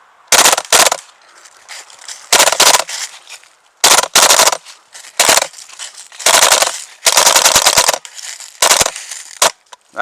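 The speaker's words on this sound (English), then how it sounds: "I'm going to shoot in full auto." WE G39C gas blowback airsoft rifle firing loud, close full-auto bursts, a series of short and longer sharp rattling volleys separated by brief pauses, with no talking.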